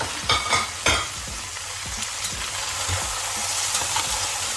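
Beef and carrots with bay leaves and thyme stirred in a hot pan for beef in chilli sauce, with a steady sizzle and a few scraping spoon strokes near the start.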